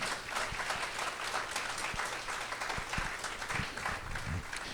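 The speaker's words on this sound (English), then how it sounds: "would it be okay if you gave her a nice round of applause?" An audience at a legislative day event on aging applauds steadily throughout, a dense, sustained round of clapping from a seated crowd with no talk over it.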